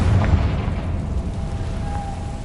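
Confringo spell explosion in Hogwarts Legacy: a deep booming blast with a sharp attack, followed by a rumbling tail and a faint ringing tone lingering near the end.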